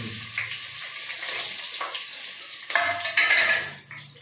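Onions frying for a bachelor-style gongura chicken curry: a bright hiss and sizzle with stirring scrapes that grows louder partway through, close and continuous, with no talk.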